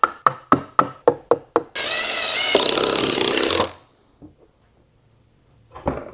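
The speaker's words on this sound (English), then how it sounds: "I'm going to glue and screw all of these in" Wooden workbench parts are joined with glue and screws: seven sharp, evenly spaced knocks ring out first, followed by about two seconds of continuous whirring from a powered driver, then a few faint taps and a soft rustle near the end.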